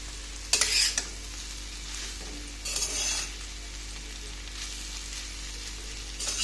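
Ukadpendi frying in a pan, with a steady close sizzle underneath and two bursts of spoon scraping and stirring, one near the start and another midway.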